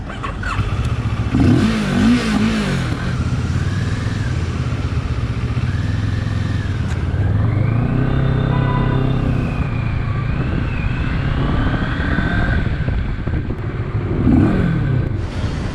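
Onboard exhaust note of a CF Moto 650GT motorcycle on the road, recorded on a GoPro: a loud, continuous engine drone that rises and falls with throttle changes under steady wind rush.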